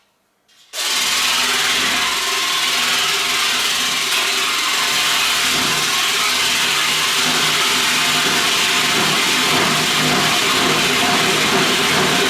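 An algae water separator, driven by a motor and tested alongside a Jaguar E-Type, starts suddenly and runs on as a loud, steady, busy mechanical whir with a rattling texture.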